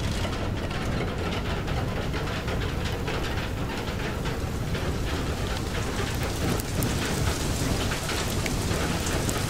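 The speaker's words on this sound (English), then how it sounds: "Is it hailing? Oh no, it's hailing!" A hailstorm in the video game Far: Lone Sails pelts down as a dense, steady roar of hard impacts and rushing noise, loud and unbroken throughout with no voices.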